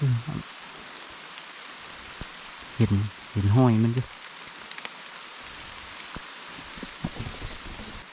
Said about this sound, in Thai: ตอนนี้ฝนตกเลย